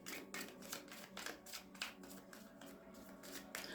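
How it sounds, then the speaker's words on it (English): Soft, rapid riffling and flicking of tarot cards being shuffled close up, quiet and continuous for a few seconds, with no voices. "One shuffle for Taurus."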